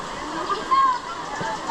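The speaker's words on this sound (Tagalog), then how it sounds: "Yan pala ang ilog." River at Pooc, Balayan, Batangas flows with a steady, close rushing and gurgling wash that runs throughout the moment.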